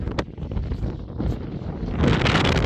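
Wind buffets the microphone in loud, rough gusts in Andalusia that swell toward the end, with no clear voices.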